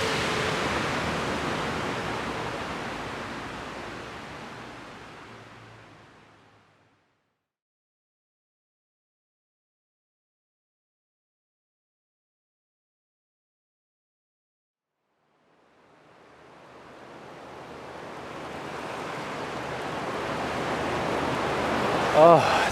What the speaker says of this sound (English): It's pretty big rain.